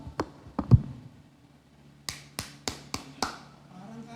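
Hand clapping at a Sunday church worship gathering: a few scattered claps early on, then a run of five sharp, evenly spaced claps close by, with faint background noise and no talk.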